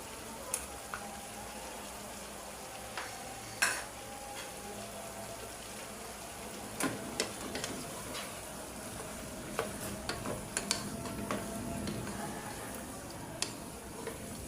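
Green chillies fry in a white vegetable curry while a spoon stirs the pan. A steady soft sizzle runs underneath, with occasional sharp scrapes and clinks from the stirring.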